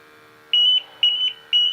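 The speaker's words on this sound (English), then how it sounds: "so there I deprived it of oxygen, and that's the one that's in alarm" A portable gas detector in low-oxygen alarm, sounding a shrill electronic beep in three evenly spaced pulses over a steady background hum, close and loud with no talking.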